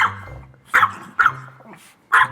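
A dog barks close to the mic, four sharp barks spaced unevenly with low growling between them.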